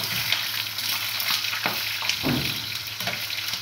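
Sausages fry in a pan with a steady broadband sizzle, broken by a few soft clanks and scrapes as they are stirred and turned, with no talking.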